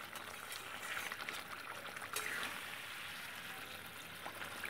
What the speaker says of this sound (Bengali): সেই অবস্থায় জল দিয়েছি। এবার শুধু ফুটবে।